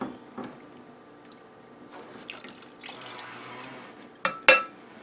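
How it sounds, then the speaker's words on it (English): Milk is poured into a tater tot breakfast casserole mixture, a soft close trickle and splash of liquid with a few wet squishing sounds and a sharper clink near the end, with no talking. "we're going to put about a 1/4 cup of milk in here"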